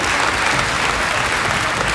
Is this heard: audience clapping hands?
yes